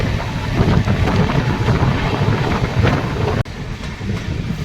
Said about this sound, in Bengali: চিত্তরঞ্জন থেকে ট্রেন ছাড়ার পর বেশ কিছুক্ষণ জঙ্গলের ভিতর দিয়ে চলে ট্রেন